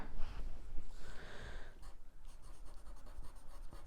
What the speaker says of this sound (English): Let me write that down just so you have it